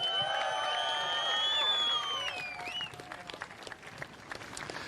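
A crowd at the SURFEST surfing contest in Newcastle claps and cheers loudly, with sharp rising whistles over the start, then settles into steady applause.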